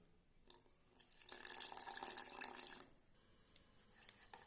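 Water is poured into banana dosa batter in a kitchen, a steady close trickle and splash lasting about a second and a half, with quiet handling sounds before and after.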